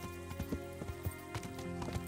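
Horse hooves clip-clop in a steady, even rhythm in the video game Kingdom Come: Deliverance, fairly quiet and set against sustained tonal game music, with no one talking.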